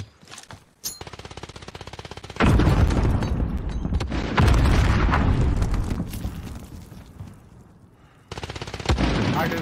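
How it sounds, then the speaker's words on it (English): A Call of Duty battle royale firefight in which a grenade blast booms loudly amid sustained bursts of automatic gunfire, near and dense, with short lulls between volleys and voices talking faintly under the shooting. "Grenade out!"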